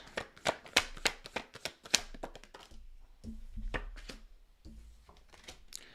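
Tarot cards being shuffled by hand in rapid riffling bursts, close and crisp, then a pause and a few softer shuffles and card flicks near the end.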